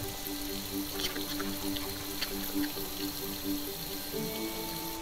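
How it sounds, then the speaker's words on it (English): A water faucet runs in the Roblox game Royale High, a steady, moderate stream splashing into a sink with faint clinks, continuous and close with no talk. "I need to turn on the faucet."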